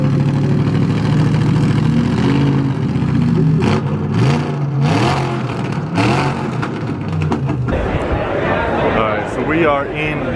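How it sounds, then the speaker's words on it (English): A Factory Five car engine starts and revs at an indoor show hall, rising and falling through several throttle blips, loud and close, with people talking over the engine noise. "We're looking at the car right now and let's listen to it start."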